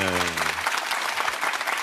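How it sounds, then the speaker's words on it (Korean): Audience applause fills a live digital town-hall talk event with the president and panelists, dense steady clapping throughout, loud and close, with a voice briefly speaking at the start. "여러분 격려의 박수 한번 크게 주시겠습니까?"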